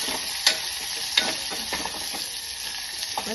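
Four finely chopped green chillies being stirred and sautéed in a pan for Maharashtrian tempered dal, giving a steady close sizzle broken by occasional sharp scrapes of the spoon, with no voices.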